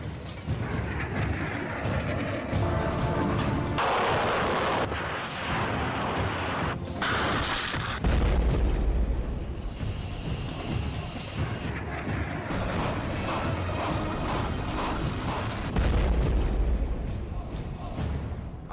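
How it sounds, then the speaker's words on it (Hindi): Heavy booms and rumbling blasts from Russian missile strikes on Ukraine, several deep low impacts recurring amid a loud, dense wash of crackling debris and noise. "रूस ने यूक्रेन पर भयानक मिसाइलों से हमला कर दिया"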